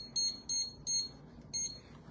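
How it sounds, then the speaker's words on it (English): A Pampered Chef magnetic kitchen timer beeps four times, high and shrill, in quick evenly spaced chirps with a short gap before the last, over a faint room hum. "Pampered Chef little kitchen timer, which I love."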